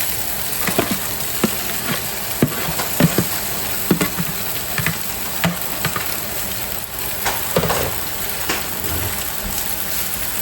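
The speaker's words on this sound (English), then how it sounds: "I'm gonna go ahead and add all our stir fry stuff to it" Beef noodles with stir fry vegetables sizzle steadily in a hot pan, a dense continuous crackle broken by scattered sharper pops and stirring clicks, with no talk over it.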